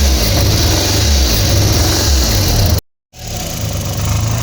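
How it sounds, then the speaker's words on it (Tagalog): A rough-running Suzuki K6A engine misfires up close, its loud uneven chugging broken by a brief drop-out before the stumbling idle resumes. "Ayan, palyado masyado."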